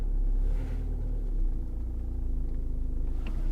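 Engine of a learner's car idling low and steady while it reverses and manoeuvres to parallel park against a curb, a continuous close rumble with slight swells and no voices.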